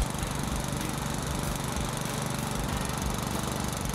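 Hyundai HYM46SPE/HYM51SPE petrol walk-behind lawn mower engine running steadily at run throttle, a loud, continuous close-up drone with no pauses or voices.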